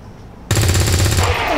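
Rapid automatic gunfire in the strategy game XCOM 2 bursts in loudly after a short quiet lead-in, a dense stream of shots that holds steady before fading.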